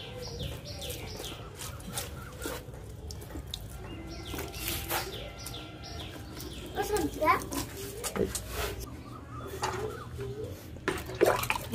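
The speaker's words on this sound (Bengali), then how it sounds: "ভালো করে ধুয়ে নিচ্ছি পাতাগুলো, গাছটাকে একটু ভিজিয়ে দেবো।" Water splashing and trickling over a potted chrysanthemum as its leaves are washed, a soft continuous running-water sound with birds chirping faintly in the background and a person speaking at times.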